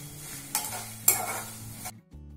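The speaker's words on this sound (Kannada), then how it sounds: "ಈಗ ಕರಿಬೇವನ್ನು ಹಾಕ್ಕೊಂಡು ಚೆನ್ನಾಗಿ ಹುರ್ಕೊಳ್ಳೋಣ" Dried red chillies and curry leaves sizzle in a pan over low flame, with two sharp stirring scrapes punctuating a steady close crackle before it cuts off.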